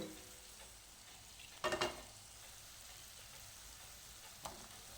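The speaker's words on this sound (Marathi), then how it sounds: "आणि हे परत परतून घेऊ थोडं" Finely chopped potatoes are stirred into roasted masala for Radhanagari doodh amti, a faint steady sizzle broken by one brief cluster of spatula scrapes and a later single tap, close by with no voices.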